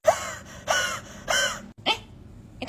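A person coughs in a string of harsh, breathy bursts, three strong hacks followed by a shorter wheezy catch and a final sharp cough, close and loud with no speech.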